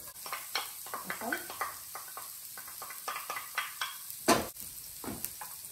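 Onion sautéing in olive oil for egg rolls: soft, intermittent stirring scrapes and light pan knocks over a faint sizzle, fairly quiet and close.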